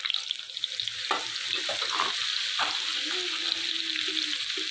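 Steady crackling sizzle of ground garlic, chili and dried coriander frying in hot oil for a tempering, with a few scraping stirs partway through, close and continuous.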